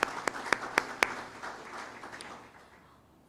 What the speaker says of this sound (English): Can we please give another round of applause for all our presenters?